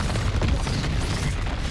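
An Incendio fire spell in Hogwarts Legacy gives off a dense, steady rumbling roar of flame with low booming texture, moderately loud and continuous throughout.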